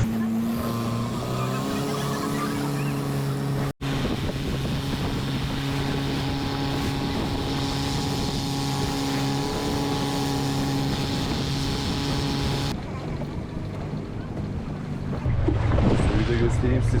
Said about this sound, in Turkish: Kaptanımız limandan ayrıldıktan sonra turbaya bastı. Şu anda dip gaz gidiyoruz.